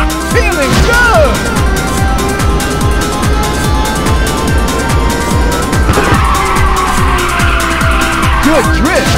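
Continuous tire squeal and roaring engine as a car drifts through a long slide in Ridge Racer 2 on PSP, Ridge City Highway, with rapid repeated skid chirps, loud and close throughout, with music and voice callouts over it.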